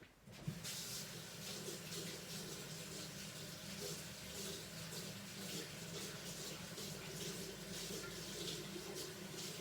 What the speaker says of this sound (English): But before I do that, I'm gonna get the water.